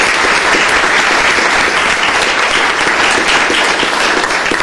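A room full of people at a county commissioners court claps in a steady, dense burst of applause, loud and close, with no pause across the whole stretch.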